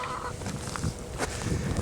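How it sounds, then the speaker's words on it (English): Chickens in a cold outdoor farmyard making honking, clucking calls close by, with a few short squawks standing out over a steady background of wind and movement. "the chickens are not worried about the cold right now"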